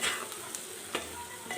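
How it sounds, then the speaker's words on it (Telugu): Boiled eggs fry with salt and chili in a hot pan, a brief close sizzle broken by a few quick stirring scrapes. "మంచిగా ఎగ్స్కి ఉప్పు, కారం మంచిగా పట్టాలి. కాసేపు ఫ్రై అవ్వనిద్దాం."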